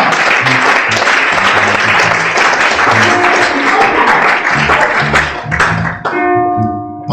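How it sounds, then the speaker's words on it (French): A church congregation at a French-language sermon bursts into loud, dense applause that carries on for several seconds with scattered voices and cheers mixed in, then thins out as a sustained tone enters near the end. "Applaudissez Dieu,"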